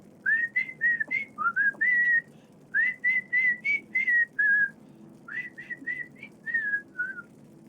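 A person whistles the Bendy cartoon intro melody, a clear tune of short bright phrases in quick bursts, paused midway and then resumed. The whistling is close and alone, with a faint low hum underneath.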